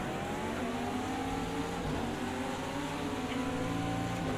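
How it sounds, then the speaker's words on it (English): A GTP prototype race car runs close behind on the track at Texas Motor Speedway, its engine a loud, steady drone with rising harmonic whine that fills the whole stretch without a break. "we got somebody right behind me. GTP? Yep, GTP car."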